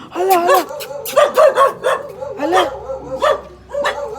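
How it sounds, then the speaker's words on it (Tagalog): A dog barks and yips repeatedly at close range, with short excited bursts mixed with whining sounds. "Ala, may aso."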